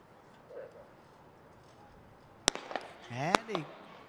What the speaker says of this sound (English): when you heard that gunshot the second time, that means stop.